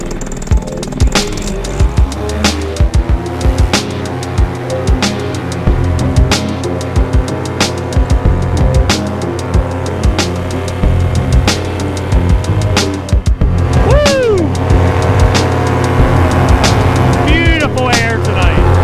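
Paramotor engines run loudly and close at a paramotor school, a steady buzzing drone with passing surges as motors rev nearby, and voices talk over them throughout.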